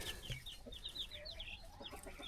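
Young chicks on a small homestead peep and cluck softly in a series of short chirps, close but faint, with light rustling around them and no talking.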